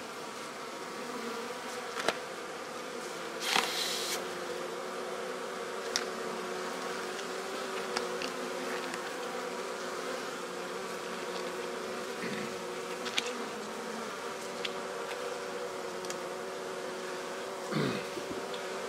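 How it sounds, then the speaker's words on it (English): Bees swarm at a beehive feeder, a dense continuous buzzing hum close to the microphone, with occasional individual bees whizzing past and faint handling knocks. "I don't think these bees are trying to sting me"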